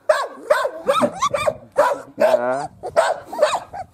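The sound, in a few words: puppy Aida barking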